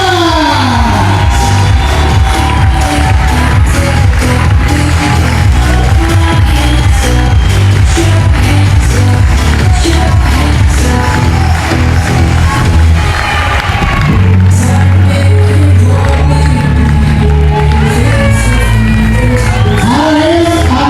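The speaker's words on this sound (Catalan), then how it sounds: "Fort aplaudiment per l'equip de Fut Mares!" Crowd applause and cheering for the Fut Mares youth football team at a club squad presentation, loud and sustained with whoops and shouts under background music, a brief dip midway before rising again.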